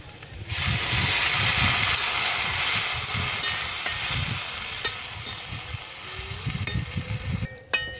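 Water poured into a pan of frying fish and pumpkin greens, a sudden loud hissing surge of steam and sizzle that swells, then slowly fades over several seconds, with occasional clinks and no talking.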